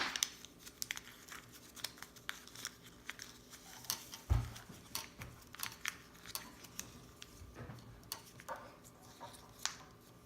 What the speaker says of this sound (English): Fold some money up.